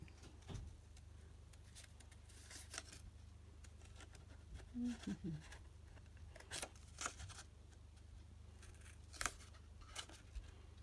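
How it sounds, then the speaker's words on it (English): Scissors snip out paper shapes in a few quiet, scattered cuts over a low steady background hum, fairly close and faint. "Cut them out."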